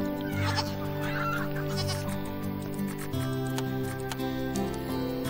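Goats in the farm management game Farm Manager 2018 bleat repeatedly, with several overlapping calls over steady background game music and ambience.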